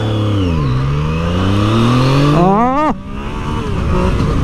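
A Yamaha MT-09 motorcycle launches hard off the line, its engine note climbing through rising revs with a quick gear shift near the end, loud and close, with a brief exclamation from the rider.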